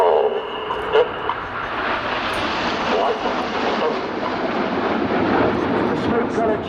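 Red Arrows jets of the Royal Air Force performing a smoke-trailing flying display at Volkel, a steady broad engine roar sustained throughout at moderate distance, with a faint voice underneath.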